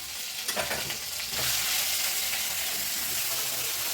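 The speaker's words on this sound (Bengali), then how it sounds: "এই মশলাটা এখন একটু ভেজে নেব" Ground spice paste of chili and turmeric with salt frying in oil for a baby banana curry, a steady soft sizzle with a few stirring scrapes near the start, fairly quiet and close.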